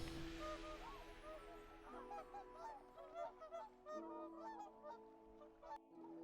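Ducks in the Settlement Survival video game quack and honk in short repeated calls over a quiet, steady backdrop of game music, faint overall.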